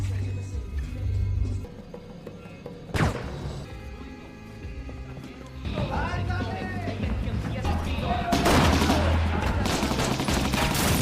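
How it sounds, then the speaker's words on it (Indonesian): Bursts of gunfire in a film shootout during a police raid on a drug lab, heavy crashing volleys building over a low musical rumble, loud and close. "Baku tembak pun terjadi."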